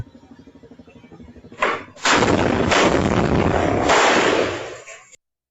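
Bazooka fired in a played clip, a loud blast that swells into a long roaring burst of noise for about three seconds before cutting off abruptly.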